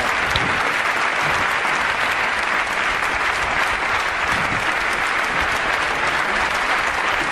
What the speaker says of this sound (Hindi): भरपूर तालियों से इस्तकबाल करें मोहतरम अख्तर